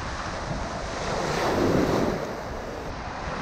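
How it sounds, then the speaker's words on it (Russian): Sea waves surge and wash onto a sandy spit on the Crimean coast near Sudak, with steady wind buffeting the microphone; the surf swells to a louder rush midway, then eases, with no voices. "Какое шикарное море!"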